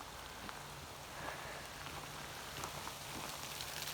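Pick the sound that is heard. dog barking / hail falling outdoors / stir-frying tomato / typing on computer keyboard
hail falling outdoors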